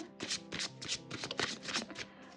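A deck of tarot cards shuffled and drawn by hand, a rapid run of crisp riffling flutters close up, repeating in quick bursts, with no talking.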